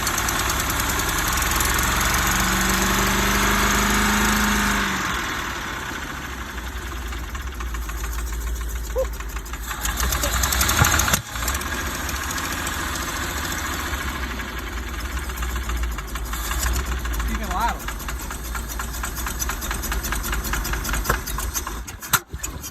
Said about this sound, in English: She almost idles.